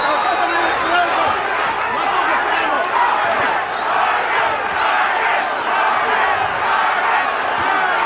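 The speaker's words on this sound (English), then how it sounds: "Crowd starting in with that Vargas chant to try to encourage." A boxing arena crowd keeps up a loud, continuous roar with rhythmic chanting for the fighter throughout, as a commentator's voice carries over the noise.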